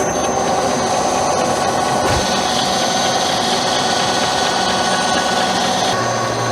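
A metal lathe takes a 15-thousandths-deep cut in low background steel coated with WD-40, making a steady, loud machining drone with a faint high whine, throwing continuous curly chips.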